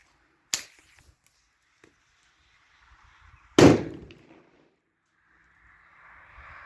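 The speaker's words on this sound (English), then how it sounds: "That was a big bang." An airsoft pyrotechnic grenade bursts after its pin is pulled: a small sharp pop first, then a much louder single bang a few seconds later that decays quickly into quiet, nearby and outdoors.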